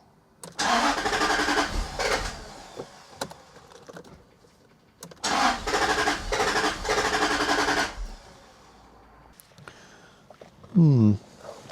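A Jaguar XK8 engine cranks in two long bursts of several seconds each, the starter churning rhythmically without catching, separated by quiet pauses, with a brief voice at the end.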